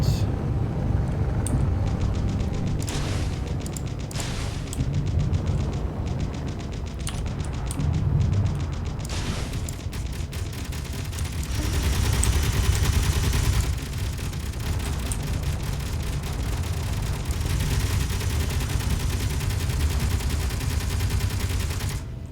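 Missiles launching and detonating in the space-building game Space Engineers, a long dense barrage of booms and rumbling blasts with rapid-fire crackle, loud and continuous, with someone talking over it at times.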